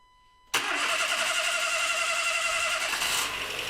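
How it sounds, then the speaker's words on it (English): A 2014 Dacia Sandero's 1.2 D4F petrol engine starts just after a short crank, then runs loud and steady at a fast idle close by, with a slight drop in pitch near the end. "Now to start the engine so the new oil filter fills with oil."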